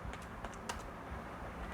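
Typing Java code on a computer keyboard, a run of soft, close key clicks with one sharper tap partway through, steady and alone without talk.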